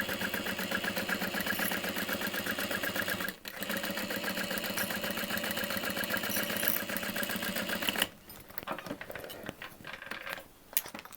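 A sewing machine runs steadily as it stitches the top and bottom of a handbag, a close, rapid mechanical whirr with a brief pause, then ending in slower, stuttering stitches.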